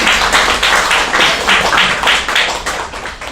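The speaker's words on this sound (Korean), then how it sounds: "박수 한번 주세요." An audience at a poetry event in a café claps in a brief, lively round of applause, with dense overlapping hand claps swelling in quick rhythmic bursts, close and loud.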